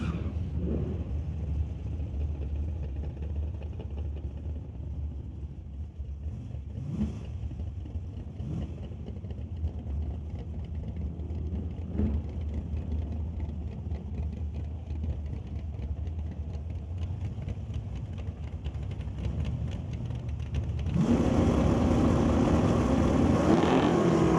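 Two Fox body Mustangs, one with a 289 cubic inch engine and one with a 427, idle with a steady low rumble at a drag strip before one revs louder near the end.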